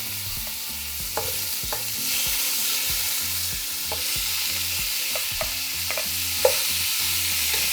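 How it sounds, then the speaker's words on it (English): Meat browns in melted lard in a pot for pozole blanco, making a constant loud close sizzle and frying crackle with occasional sharp stir-clinks and no talk. "once the lard has melted, now we are ready to brown our meat"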